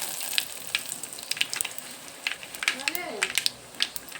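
Cumin, mustard seeds and curry leaves sizzle in hot oil as a tempering for buttermilk sambar. A soft, steady fry is broken by sharp crackles and pops, with a voice talking over it.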